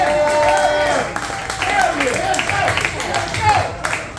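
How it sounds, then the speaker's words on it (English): An audience claps steadily while a loud voice talks and calls out over the applause. "Let's clap it up for yourselves"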